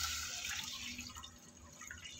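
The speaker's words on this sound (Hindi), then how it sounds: "इसे पानी डाला" Water poured from a jug into a frying pan on a gas stove, a steady splashing pour that fades gradually over about two seconds, with no talking.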